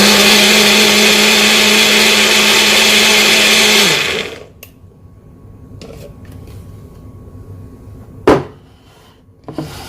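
An old bullet blender whirs loudly and steadily for about four seconds, mixing coffee with butter and coconut oil, then stops, leaving quiet clatter and a sharp knock.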